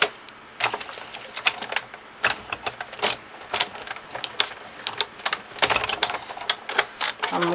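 A die-cutting machine rolls card through Framelits dies, giving a steady run of close, rattling mechanical clicks and ratcheting ticks that continue throughout.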